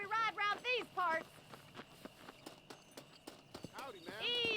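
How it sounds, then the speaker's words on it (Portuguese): A horse in the Red Dead Redemption video game whinnies loudly, then its hooves clip-clop in a steady walking rhythm before a second whinny at the end. "É que tá difícil de controlar esse cavalo, hein?"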